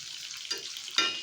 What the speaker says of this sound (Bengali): আমি এখন মাছ ভাজতে দিয়েছি